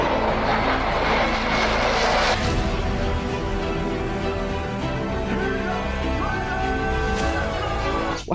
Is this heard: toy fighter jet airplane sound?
yes